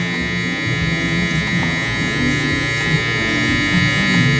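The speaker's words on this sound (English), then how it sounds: "That line right here, we can soften it with our trimmer again." An electric hair trimmer buzzes close and steady during a taper fade haircut, a constant high-pitched electric drone with slight variations as it works the hair.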